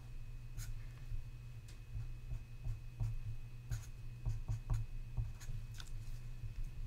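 A pen scratches across a surface in short strokes and taps while drawing a chemical structure, close and fairly quiet, with no talking.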